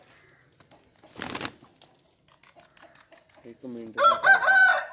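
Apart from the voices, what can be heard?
fighting rooster crowing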